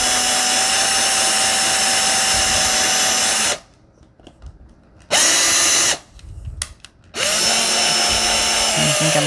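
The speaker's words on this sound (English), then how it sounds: "Drilling." A power drill bores through a thick stack of junk journal pages, loud whining runs broken by two short pauses before the motor spins up again at close range.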